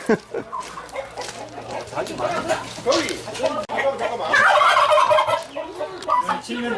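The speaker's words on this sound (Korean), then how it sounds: "저 닭이 아니요. 칠면조 그죠?" Turkeys gobbling in rapid warbling bursts near a park parking lot at Geumosan mountain in Gumi, South Korea, mixed with clucking fowl while people chat nearby.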